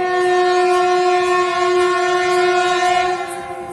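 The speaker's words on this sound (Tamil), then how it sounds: "மற்றும் ஒரு சரக்கு ரயில் வந்து கொண்டிருக்கிறது." A freight train drawing near, hauled by a locomotive from the Erode shed, sounds a long, loud, steady horn close by for nearly four seconds, easing slightly at the end.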